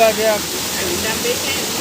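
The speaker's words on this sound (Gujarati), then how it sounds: "પાણીના ધોધ ચાલુ થઈ ગયા છે." Water pours steadily over the Jatashankar waterfall in the Girnar forest during the rains, a loud, continuous rushing close by with no break across the moment.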